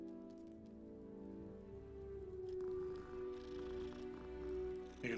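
A cat meows within the Hogwarts Legacy video game, soft and mid-distance over a steady patter of in-game rain, with a brighter rustle near the end.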